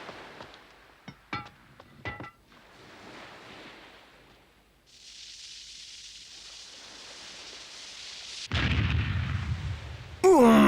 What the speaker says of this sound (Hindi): उनसे कहो कि हम इन बंदूकों को उनके लिए चलाकर दिखाएंगे।